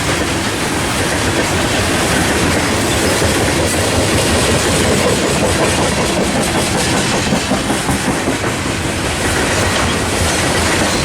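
A Union Pacific freight train roaring past up close at Fullerton, dense rumbling and rhythmic clickety-clack of wheels with occasional squeals, loud and continuous throughout.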